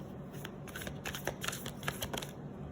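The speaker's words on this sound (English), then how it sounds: "But maybe I didn't shuffle them properly, so forgive me." Tarot cards being shuffled by hand, a quick run of soft crisp riffling bursts close by and fairly quiet, with no talking.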